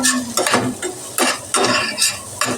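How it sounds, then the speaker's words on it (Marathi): White radish slices with tomatoes being sautéed in a pan, a spatula scraping and stirring in repeated bursts over a steady sizzle, close and fairly loud, with no talking. "पहिल्यांदा हा जो पांढरा मुळा आहे ना तो परतून घ्यायचा आहे व्यवस्थित"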